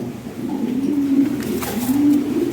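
A pair of Red Lahori pigeons, male and female, coo in low, throaty, rolling calls. Two drawn-out coos come up close and clear, one after the other.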